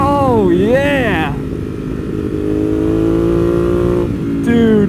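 Ducati Monster 821 Stealth motorcycle engine, a 2020 model, blipping and downshifting with sharp rev rises and falls, then a steady loud drone on the road, engine close and loud with a voice talking over it.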